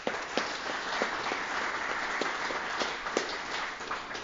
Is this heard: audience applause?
yes